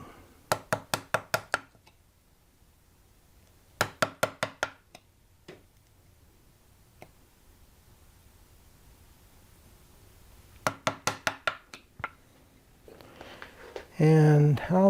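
A chisel chopping drawer dovetails in wood, with quick clusters of four or five sharp, close knocks separated by quiet pauses and a few lone strikes, followed by a voice speaking at the end.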